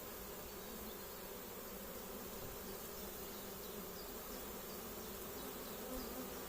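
A swarm of bees being collected with a pole hums in a dense, continuous buzz, steady and fairly faint, many insects droning together without pause or any voices.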